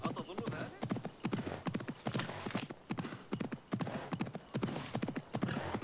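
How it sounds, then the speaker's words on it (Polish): Horse galloping in the video game Assassin's Creed Mirage: a steady, rhythmic clatter of hoofbeats, loud and close, running throughout with brief regular pauses between strides. "Teraz jest galop."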